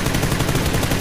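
Gunfire in PUBG: a rapid rattle of repeated close shots, loud and steady for about a second, with no voices.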